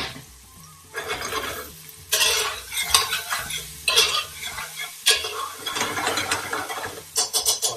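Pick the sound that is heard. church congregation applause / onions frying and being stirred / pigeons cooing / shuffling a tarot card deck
onions frying and being stirred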